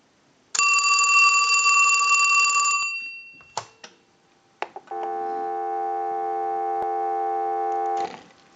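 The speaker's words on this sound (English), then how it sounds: "We'll give you some dial tone." A Mickey Mouse novelty telephone under repair and conversion gives a ringing burst, a few handset clicks, then a steady droning dial tone lasting about three seconds before cutting off.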